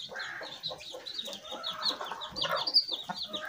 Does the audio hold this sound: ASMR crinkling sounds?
no